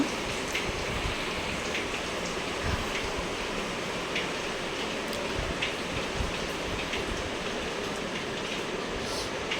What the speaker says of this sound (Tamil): வெளியே பார்த்திங்கன்னா மழை பெஞ்சிட்ருக்கு